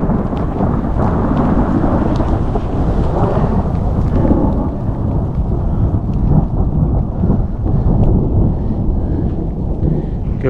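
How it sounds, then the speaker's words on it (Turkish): Continuous deep rumble of thunder rolling on and off over steady rain at Lake Çıldır, heard from a caravan, loud and close, with no voices. "Gök gürültüsünü muhtemelen duydunuz."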